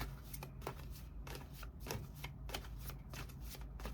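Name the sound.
shuffling tarot cards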